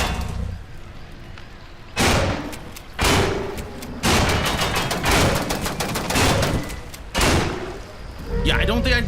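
A shotgun firing in a video game, several heavy booming blasts spaced a second or two apart, loud and close, with a voice talking between shots.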